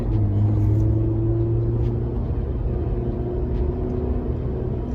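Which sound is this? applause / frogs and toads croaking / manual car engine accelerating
manual car engine accelerating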